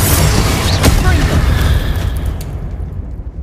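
A Confringo blasting spell goes off in Hogwarts Legacy amid combat, a loud, dense booming roar with sharp bursts that rumbles continuously and fades slightly toward the end.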